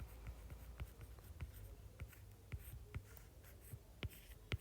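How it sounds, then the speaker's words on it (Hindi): A pen or marker taps and scratches while a chemistry question is written out by hand, giving quiet, close, irregular strokes with no talking. "क्वेश्चन लिखते हैं अपन"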